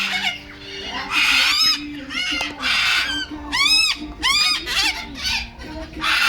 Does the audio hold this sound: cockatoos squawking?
yes